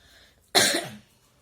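A woman coughs once indoors, a single sharp close burst lasting about half a second, standing alone against a quiet room background.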